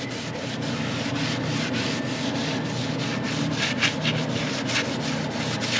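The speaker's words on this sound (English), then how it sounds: "all I'm doing is just wiping off" Wax is wiped off a surface near some bolts with a pad, making a continuous close rubbing and scrubbing hiss with faint rhythmic strokes and no talking.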